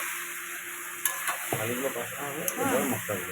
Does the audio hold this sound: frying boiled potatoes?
yes